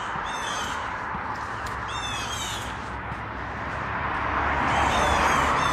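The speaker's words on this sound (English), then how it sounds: "Sounds like the Blue Jays are acting up on this property to my right." Several blue jays call harshly in a suburban neighborhood on Long Island, repeated raspy cries that come in bursts over a steady outdoor rumble of background noise, with no talking.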